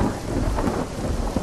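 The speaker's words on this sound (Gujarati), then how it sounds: "અમદાવાદમાં આ સાથે જ વરસાદનું આગમન પણ થઈ ચૂક્યું છે." Rain falling in Ahmedabad with a low rumble of thunder, a short, steady wash of downpour and deep rolling thunder, fairly loud and without any voices.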